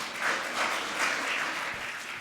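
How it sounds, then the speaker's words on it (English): Conference audience applauding a speaker, a dense steady wash of clapping from many hands, fairly close and sustained throughout. "So can I get a massive round of applause for Diego?"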